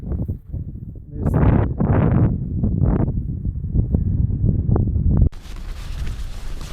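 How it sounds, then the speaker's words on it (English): Strong wind gusts buffet the microphone at a mountain campsite near Haugastøl, loud, rough and continuous, roaring in surges throughout. "It's a struggle getting out in the wind."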